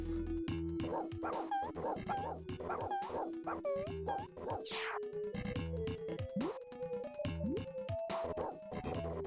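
A dog in the film Beethoven: The Ultimate Canine Caper! gives a string of barks, yips and whimpers over steady sustained music, fairly quiet overall.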